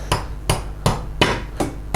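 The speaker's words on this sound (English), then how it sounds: "with a hammer, and just pop the orange insert in" Hammer lightly tapping an orange plastic insert into the end of a metal shelf rod tube, six sharp evenly spaced knocks about a third of a second apart, close and clear with no talking.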